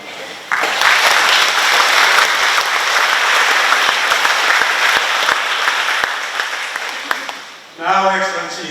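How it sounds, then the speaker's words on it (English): Loud, dense applause fills a ceremony hall during the handover of the National Convention Center, a sustained roar of many clapping hands that fades before a voice begins speaking at the end. "Let's give them a round of applause."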